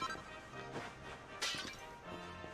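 Pots being smashed in Dragon Quest 11, a couple of quiet clattering breaks with a sharper crack partway through, heard faintly over game background sound.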